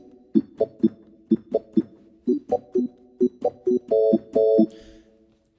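Reggae organ bubble: short, bouncy chord stabs in a steady syncopated pattern, close and clear with no voices, ending on a couple of longer held chords.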